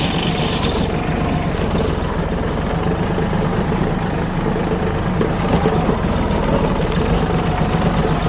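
A Massey Ferguson 6028 tractor engine runs at a steady RPM, a loud, close, even diesel rumble that holds constant throughout without voices.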